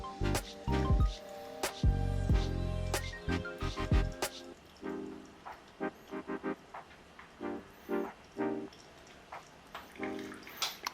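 Hot water for the final pour of a pour-over coffee brew trickles quietly, with soft splashes and a string of irregular drips and faint clicks spread across the span.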